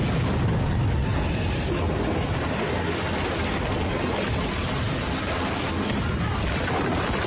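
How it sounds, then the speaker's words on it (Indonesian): A bomb blast against a blast door fills the whole stretch with a loud, dense roar that rumbles on without a break and slowly settles. "Saat suara ledakan mereda"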